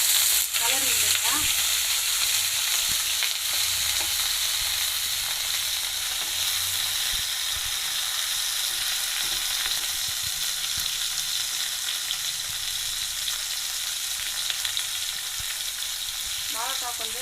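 Raw plantain pieces frying in oil in a pan for vazhakkai varuval, a loud, continuous sizzle that runs unbroken throughout, with only an occasional soft stir and no talking.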